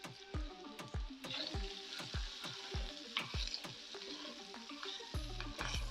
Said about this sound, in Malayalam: കുറച്ച് സമയം നമ്മിങ്ങനെ ഇളക്കി കൊടുത്തുകൊണ്ടിരിക്കാം